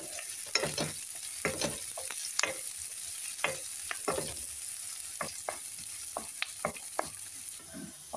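Onion and garlic frying in a pan, a soft continuous sizzle punctuated by a dozen or so sharp spatula scrapes and taps at an irregular pace, close by, with no speech.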